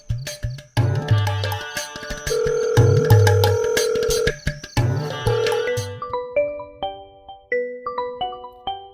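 A telephone rings late at night, a bright repeating electronic ring playing in steady bursts over a musical score before thinning into sparse tones; no voices are heard.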